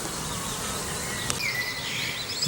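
Honeybees from a primary swarm with a mated queen move around a Kenyan top-bar trap hive, a steady, dense insect hum continuing throughout with a few sharper buzzes of individual bees passing close.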